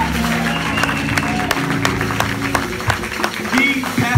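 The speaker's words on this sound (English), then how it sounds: "All right, everybody clap your hands." An audience at a church anniversary conference claps along in scattered, rhythmic bursts, the hand claps sounding under a crowd's murmur and a voice speaking over them.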